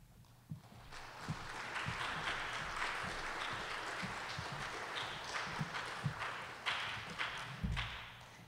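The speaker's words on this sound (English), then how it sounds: "You can applaud for this part of it." Audience applause greeting the Republican and Democratic candidates as they are introduced at a live debate, a steady wash of clapping from a crowd in a hall, sustained across the whole stretch at moderate level.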